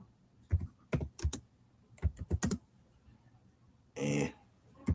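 Bursts of quick key clicks on a computer keyboard come in short uneven clusters with quiet gaps between, close and fairly soft, ending with one longer dense run of typing.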